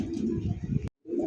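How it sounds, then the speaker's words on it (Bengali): A pair of blue-bar Spanish charera pigeons gives soft, low, throaty coos close by, running continuously before a short silent break and then resuming. "স্প্যানিশ চরেরা একটা জোড়া, তা ব্লু বারের মধ্যে খুবই সুন্দর মাস্টার পেয়ার একটা জোড়া দেখেন"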